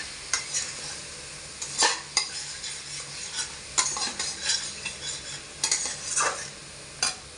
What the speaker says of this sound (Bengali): মশলাটা কষা হোক, কষছি